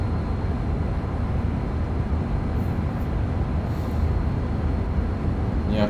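A Class 390 Pendolino electric train is driven in Train Sim World 5, producing a loud continuous rumbling roar of motion with a brief squeal near the end.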